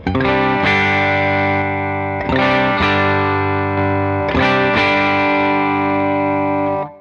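Sustained electric guitar chords through a Line 6 amp modeler with a compressor ring out with a smooth, evenly compressed tone and light distortion, restruck about three times, loud and steady with no voice.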